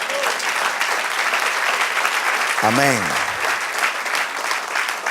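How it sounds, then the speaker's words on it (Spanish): A church congregation breaks into sustained, dense applause that fills the room at an even level, while a voice briefly calls out partway through. "Denle un aplauso al Señor."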